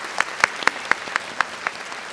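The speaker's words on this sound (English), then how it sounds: "Please give a big round of applause." Applause at a university entrance ceremony, heard as a brief run of seven or eight distinct, evenly spaced claps, crisp and fairly close, with no voices over them.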